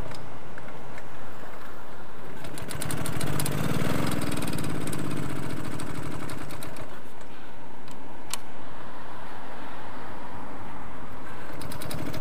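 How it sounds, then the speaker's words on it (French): A flooded Solex moped engine being coaxed to start at a moped gathering, with uneven mechanical rattling and clicking, sputtering bursts, and a brief low rise midway, against steady outdoor background noise. "mais j'ai le moteur noyé, il va pas démarrer ce con."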